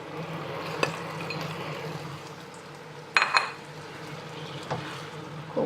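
Prawns go into a hot wok of stir-fried Hokkien noodles, giving a steady low sizzle with a few sharp clanks of utensil against metal and stirring scrapes, no talking.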